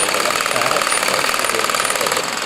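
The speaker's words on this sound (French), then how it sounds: "on a un moteur électrique" An old electric farm motor known as a "valet de ferme" runs steadily, giving a loud, continuous mechanical drone with a fast, even chatter throughout.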